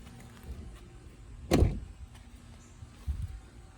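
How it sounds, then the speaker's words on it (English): A car door on a 4x4 slams shut with a single solid, loud thump, followed by a softer secondary knock a moment later. "Not a bad sound. Good solid door."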